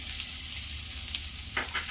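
Steady sizzling and frying of onion and coconut in a hot pan with roasted cumin, with a few soft stirring scrapes near the end.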